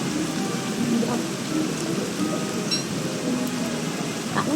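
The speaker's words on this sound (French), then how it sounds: "Par contre, des fois, il y a des éclairs." Steady rain falls in the Don't Starve video game thunderstorm, a dense continuous hiss with faint crackles, with no distinct thunder crack standing out.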